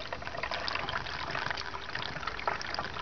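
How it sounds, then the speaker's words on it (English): Toyota SLLC coolant is poured slowly into the inverter cooling system of a Toyota Prius, making a steady, close trickling and gurgling flow of liquid with no pauses. "You fill it up slowly, this container had about a half a gallon"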